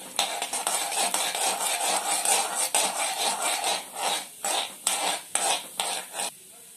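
A spoon scrapes and clinks in a pan as chana dal is stirred into frying okra, with a steady sizzle underneath and a run of rhythmic stirring strokes toward the end.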